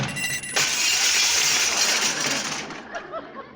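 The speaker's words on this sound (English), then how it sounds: "don't slam the door because I just put a new glass in it and it might break" A glass pane in a slammed door shatters as a radio sound effect: a sudden loud crash followed by a sustained spray of breaking glass, then scattered tinkling pieces settling.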